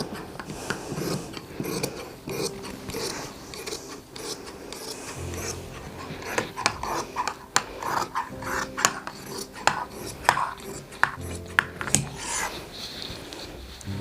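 Scissors work through heavy salwar cloth with repeated rasping snips and rubbing fabric, close and fairly busy, growing denser in the second half.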